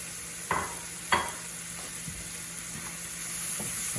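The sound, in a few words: mushrooms, onions, garlic and flour cooking in a pan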